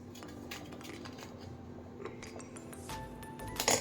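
Stuffed bitter gourds are fitted into a pressure cooker in a home kitchen, giving scattered clinks and knocks of metal pots and utensils, close and uneven, louder clattering near the end.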